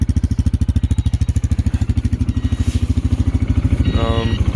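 A Linhai Xwolf 300 ATV engine runs steadily through its exhaust muffler, a loud close rhythmic thumping pulse, with a brief higher mechanical squeal near the end.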